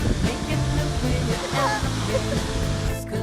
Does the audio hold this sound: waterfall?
yes